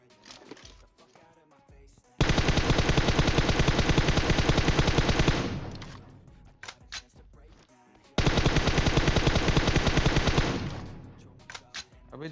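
Gunfire in the mobile battle royale game PUBG Mobile: two long, loud, sustained bursts of rapid automatic fire, each lasting several seconds, with scattered quieter shots and game sounds around them.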